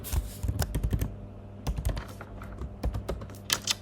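Rapid clicking keystrokes on a computer keyboard while code is typed, a close, busy patter of taps in quick bursts with brief pauses, and no talking.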